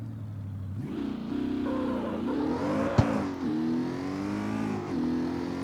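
An Audi RS7 in the CarX Street racing game revs its engine continuously, pitch climbing and dipping through gear-like steps, with a sharp click near the middle, loud and alone without talk.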